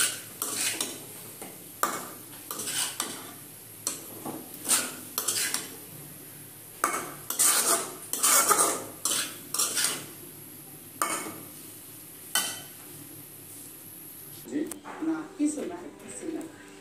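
Noodles stir-fried in a home kitchen pan, with repeated scraping and clinking of a metal spatula against the pan in short, rhythmic bursts, fairly close, with occasional talk in between.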